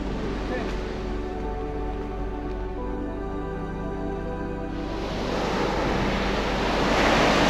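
Waves breaking on a beach at Ponta Membene, Mozambique, near low tide: a steady roaring surf with wind buffeting the microphone, swelling louder toward the end, while people talk over it.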